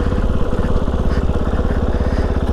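A Kove 450 Rally dual sport motorcycle on the move, its single-cylinder engine thrumming in a loud, rapid, steady pulse close to the rider, no talk over it.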